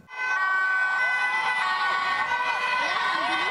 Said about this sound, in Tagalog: Matinding hiyawan ang bumungad sa tinted vehicles na ito